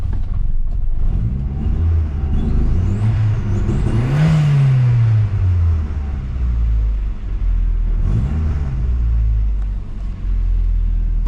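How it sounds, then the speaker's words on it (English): A Ford Cosworth engine runs roughly with a misfire, its note rising and falling unevenly as it revs and stumbles as though about to cut out, close and loud with heavy low rumble. "It's got a misfire."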